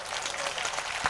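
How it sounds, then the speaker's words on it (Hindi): Brief burst of audience clapping at a Hindi comic poetry gathering, a dense patter of many hands from a crowd, fairly close and steady. "ताली बजाइए"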